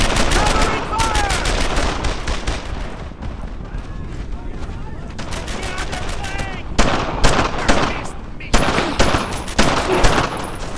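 Dense bursts of rifle and machine-gun fire in the World War II shooter Brothers in Arms: Earned in Blood, loud and rapid with brief gaps, mixed with shouted voices.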